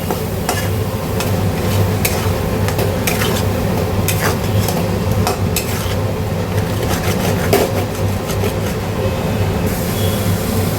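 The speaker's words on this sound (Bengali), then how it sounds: "এবার এই সবটাকে দিয়ে আমি কষাবো চিংড়ি ভাজার তেলে" Spices and leftover food fry in oil left from frying prawns, a dense continuous sizzle with repeated scraping stirs and clicks of a utensil against the pan, close and loud with no talk.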